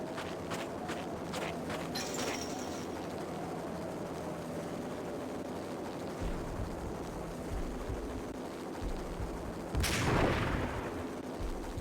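Gunshots fired at suspension cables in the video game Max Payne, a few sharp cracks over a busy game backdrop with footsteps and rumble, including one louder burst near the end.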